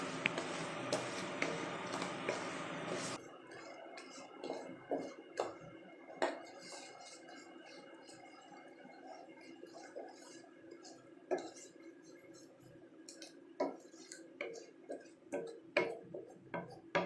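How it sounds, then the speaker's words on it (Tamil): Pineapple jam being stirred in a pan for jam tarts, after a brief burst of louder sizzling the spoon gives repeated light clicks and taps against the metal, close and quiet with no voices. "இது மெல்ட் ஆகி திக்கன் ஆகிற வரைக்கும் நம்ம இதை வச்சு கிளறிக்கிட்டே இருக்கணும்"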